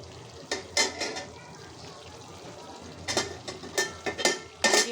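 Pre-fried chicken pieces go into a pan of sizzling chicken korma masala with tomato sauce, giving a low steady sizzle punctuated by a few sharp scraping and clattering bursts as they are tipped in and stirred.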